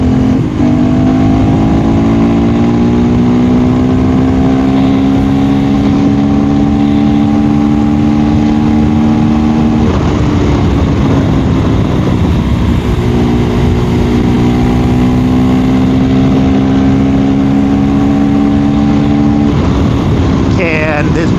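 A KTM Duke 390 motorcycle cruising on a freeway, its engine droning steadily with a brief shift or throttle change midway, loud and close under heavy wind rush.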